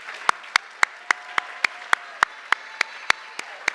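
A crowd at a graduation ceremony applauds, sharp hand claps landing in a steady, evenly spaced rhythm over a softer wash of clapping, moderately distant in a hall.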